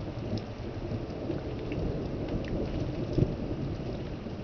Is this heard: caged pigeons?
no